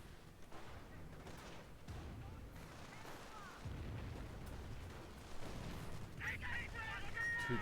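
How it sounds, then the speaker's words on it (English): Artillery shells strike forward emplacements during a Company of Heroes battle, booming repeatedly over a steady din of game combat noise and crackling gunfire, with heavier blasts toward the end. "artillery. They're hitting one of our forward emplacements, trying to take our territory."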